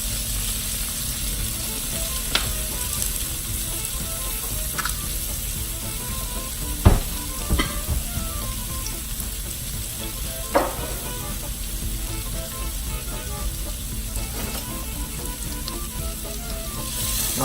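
A steady, close sizzle of asparagus and small-diced peppers frying in a pan goes on throughout, broken by a few sharp utensil clicks and scrapes against the pan.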